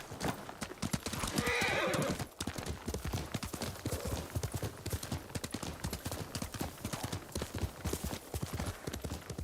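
Rapid, regular hoofbeats of a galloping horse in the game Ghost of Tsushima clatter throughout, with a brief whinny near the start; crisp and close, like game audio.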